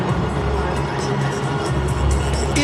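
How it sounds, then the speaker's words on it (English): A large cricket crowd at a West Indies v England match roars and cheers loudly and steadily after a six, a dense, sustained wall of voices close around. "The crowd on their feet. They're enjoying this entertainment."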